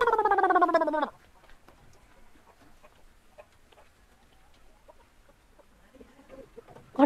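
A chicken gives one loud, close, drawn-out cackling call lasting about a second, followed by quiet with faint scattered sounds and a brief call starting again at the end.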